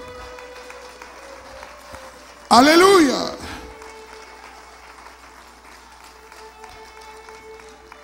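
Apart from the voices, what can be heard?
church congregation applauding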